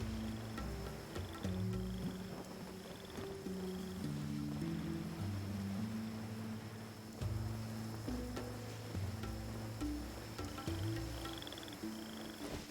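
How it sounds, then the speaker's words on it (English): Frogs croak in a Genshin Impact scene, many overlapping low warbling calls in repeating rhythmic patterns over soft ambient water, steady and moderately close for the whole stretch. "All the frogs! The frog noises."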